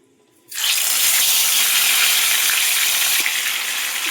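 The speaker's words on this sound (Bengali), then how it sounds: "তেলটা গরম হয়ে গেছে আমি এবার মাছগুলো দিয়ে দেব" Masala fish hits deep hot oil with a sudden loud burst of sizzling that holds as a dense, continuous hiss, close and alone.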